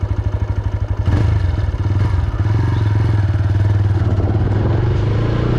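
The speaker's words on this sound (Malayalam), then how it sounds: "വണ്ടിയുടെ സൗണ്ട് ജസ്റ്റ് ഒന്ന് കേൾക്കാം കേട്ടോ. ഞാനത് വണ്ടി പവർ മോഡിലേക്ക് ഒന്ന് ഇടുവാണ്" A TVS Raider 125 motorcycle idles in power mode close by, its single-cylinder engine putting out a steady, even low thrum with a rapid regular pulse that fills the whole stretch.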